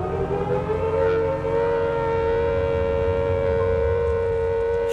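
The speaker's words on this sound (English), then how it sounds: "the first air raid siren in wartime Britain was heard" A wartime air raid siren in Britain wails in a long, steady, droning tone, loud and sustained for the whole stretch with no break and no voices.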